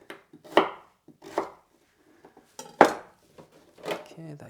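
Knife chopping vegetables into sticks for crudités on a cutting board: several crisp, uneven chops with short pauses and light clinks from kitchenware.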